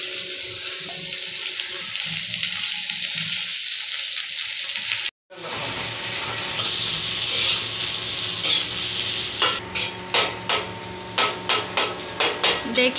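Vegetable curry fries in oil in a small home room, a steady broadband sizzle and stirring hiss that drops out briefly midway, then returns with a run of sharp, rhythmic clinks from a utensil against the pan.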